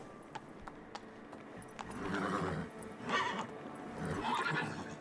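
Roach, Geralt's horse in The Witcher 3, gives a few loud whinnies that rise and fall, preceded by light clip-clop hoof taps and a faint game ambience, with no voices.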